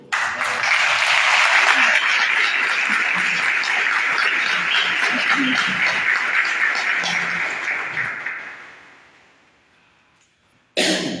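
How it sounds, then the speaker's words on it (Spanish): Loud, sustained applause from a church congregation at a worship service in Córdoba, Argentina, holding steady for about eight seconds before fading out, with a scattered cough and a brief renewed burst at the end. "Y tu pueblo te da un fuerte aplauso en señal de victoria."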